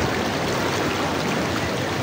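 Stream water flows in a steady, full rush near Kalu waterfall in Malshej Ghat, a continuous close wash with no pauses.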